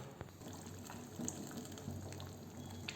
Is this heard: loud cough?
no